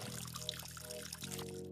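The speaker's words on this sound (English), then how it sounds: "fill up the watering can at the sink" A watering can filled from a sink in the video game Schedule 1, with a steady close trickle and pour of water and a low hum underneath that shifts slightly partway through.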